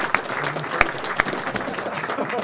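Applause at a mixed martial arts press conference for Bobby Razzak: a small room's worth of scattered clapping with a few sharper claps standing out, brief and moderately loud.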